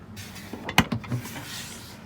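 A refrigerator drawer in a Ford Transit van conversion slides and thuds shut with a sharp click, followed by a couple of softer knocks, close by in a quiet interior.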